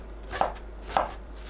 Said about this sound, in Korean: 새송이버섯을 1cm 두께로 길게 썰어주세요